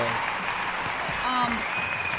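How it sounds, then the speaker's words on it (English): Steady applause from a crowd, a dense even patter of clapping throughout, at moderate volume. "Can we get a Round of applause."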